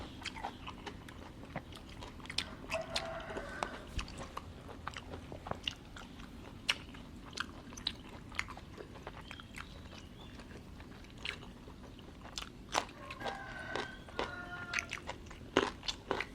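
Spicy cucumber salad is chewed close to the mic, with repeated crisp bites and wet crunching in an uneven rhythm and no talking.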